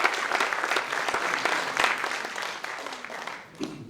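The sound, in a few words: audience applause for volunteers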